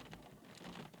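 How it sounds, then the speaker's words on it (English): Rain falls steadily on a car, a faint, dense patter heard from inside over a short stretch. "I'm sorry about the rain."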